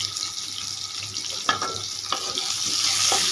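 Onions frying in a pan for a whole-onion vegetable curry, giving a steady hiss and sizzle with a few soft clinks of stirring. There is no talk over it.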